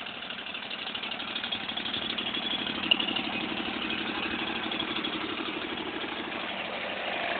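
A Scag belt drive lawn mower engine runs at a steady idle, a continuous even putter heard close and alone without talk.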